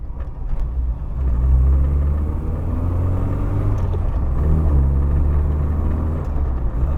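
Steady low rumble of an MG Metro driving on a bumpy road, with engine drone and road noise that rises slightly and stays fairly loud throughout.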